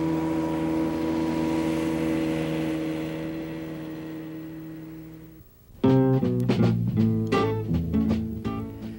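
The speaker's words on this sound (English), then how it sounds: "the only civilized noise that broke the silence of the wilderness was the friendly call of our outboard motors." Outboard motors on a boat in the Canadian wilderness hum with a steady droning tone that slowly fades, followed by a louder burst of rumbling engine noise.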